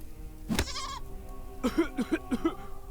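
A goat bleats in the video game Deponia: one sharp wavering cry, then a rapid run of shorter stuttering bleats, close and clear.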